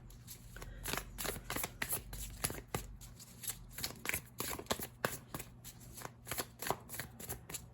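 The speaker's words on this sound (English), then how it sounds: "I'm going to give it a couple good shuffles and then pull from the top." Tarot cards being shuffled by hand, a quiet series of crisp riffling bursts and taps in an irregular rhythm, close and with no talking.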